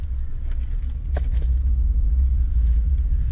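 Steady low rumble of a 2018 Hyundai Sonata New Rise 1.6T on the road, heard from inside as it drives, a constant engine and road drone with no talking.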